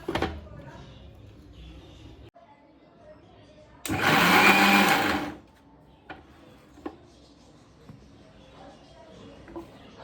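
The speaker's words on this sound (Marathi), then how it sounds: "मी वाटून घेतलं आहे आणि अजून माझं चालू आहे त्याच्यामध्ये अजून एक शेवटचं मला बारीक करायचं आहे" A mixer grinder blending ingredients for pav bhaji runs in one loud burst of about a second and a half, framed by quieter kitchen clatter and a few knocks.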